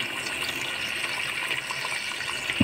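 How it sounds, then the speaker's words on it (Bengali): A small amount of water is poured into chicken meat braising in a cooking pot, making a steady close gushing splash that fills the whole moment, followed by a brief clink at the end. No speech. "এই মাংসটা কষানোর জন্য আমি আর কিঞ্চিত পরিমাণে পানি দিব।"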